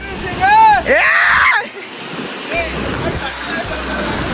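Constant roar of rushing water at a waterfall in Surat, loud and broadband, with a voice speaking over it in bursts.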